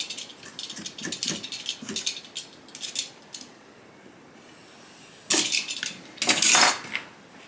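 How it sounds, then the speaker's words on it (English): A knife is drawn across a high impact polystyrene sheet to score it, giving several short, bright scraping strokes with quiet pauses between them and two louder rasps near the end. "run the knife down it once without too much pressure."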